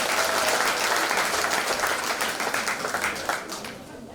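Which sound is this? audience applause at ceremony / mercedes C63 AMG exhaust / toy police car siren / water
audience applause at ceremony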